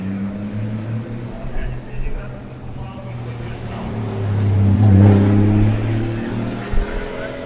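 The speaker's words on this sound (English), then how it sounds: "Alex Dimitrenko in his new BMW E92." A BMW E92 drift car revs hard at a Russian Drift Series qualifying round in Sochi, its engine a steady low drone that swells to a loud peak midway, with a commentator talking over it.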